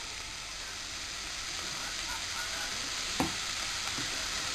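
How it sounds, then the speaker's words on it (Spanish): Chayote fries in hot oil and butter in a pan, giving a steady close sizzle with a faint clink of a utensil stirring. "Ya está bien fritita porque ya estaba caliente el aceite y la mantequilla"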